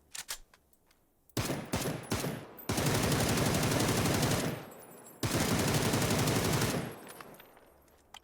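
Long sustained bursts of automatic rifle fire in the battle royale game PUBG, loud and close, with a few short taps before two extended sprays separated by a brief pause.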